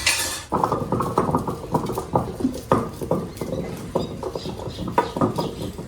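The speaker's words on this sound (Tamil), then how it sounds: "அதுதான் நான் உரலில் போட்டு இப்படி வாட்டிக்கிட்டு இருக்கிறேன்" Repeated pounding of an onion mixture in a stone mortar (ural), a steady series of close, dull thuds with gritty scraping between strikes, heard alone.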